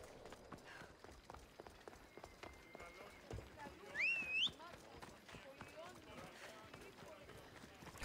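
Horse hooves galloping at a steady run in Assassin's Creed Odyssey, rapid clip-clop beats among city streets and walls, set against game music and effects, with a brief whistling tone near the middle.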